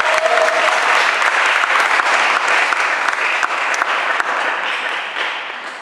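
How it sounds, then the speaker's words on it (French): A church congregation breaks into loud, sustained applause during a Sunday sermon, dense clapping filling the room and tapering slightly toward the end. "Est-ce qu'on peut acclamer pour ces versets?"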